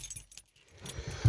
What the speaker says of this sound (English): I'm going to even lock the van up